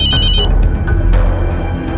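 A telephone rings loudly in a police station scene of a crime drama, with repeated electronic bell bursts and strong harmonic tones, close and dominant over a low background hum, no speech.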